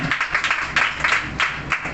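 A group claps at a PYPA church youth meeting, steady overlapping hand claps with a quick uneven rhythm, close and lively.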